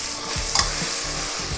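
Green peas frying in a pan for matar pulao, a brief close sizzle with scraping stirs of a spoon, steady and fairly loud.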